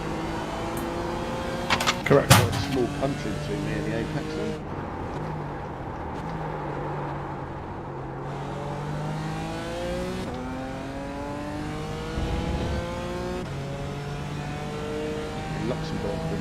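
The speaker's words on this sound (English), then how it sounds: "faster car approaching." A faster race car closes in during an endurance race in the iRacing simulator at Barcelona, its engine revving and rising under steady in-car engine drone while a driver talks over radio.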